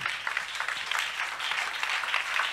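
A church congregation applauds loudly, a dense, steady clatter of many clapping hands that fills the space throughout with no pause.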